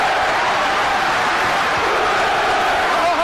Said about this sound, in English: They're cheering downstairs. The applause is building.